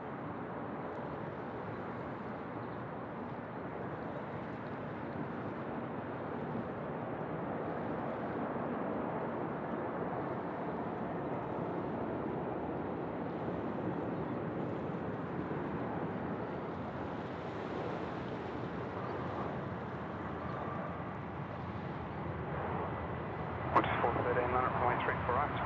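A jet airliner taking off at Sydney Airport gives a steady, broad roar throughout, heard under intermittent air traffic control radio talk.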